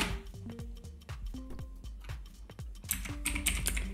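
Close, quiet clicking of a computer keyboard as a password is typed, a quick irregular run of keystrokes that builds to a denser flurry near the end, with no voices.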